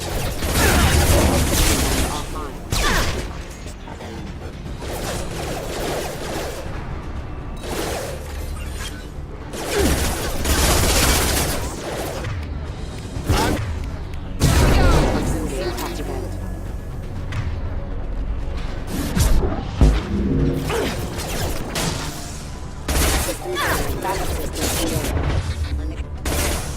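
Gunfire and explosions during combat in the video game Mass Effect 2, a dense, loud stream of shots, booms and crashing impacts that goes on without a break, with voices calling out now and then.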